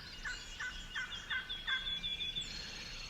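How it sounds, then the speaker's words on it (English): A wild turkey gobbler on a Kentucky hillside gobbles in a rapid series of short rattling bursts, faint and distant over quiet outdoor ambience. "gobbler down here on this hillside, strutting in the sun."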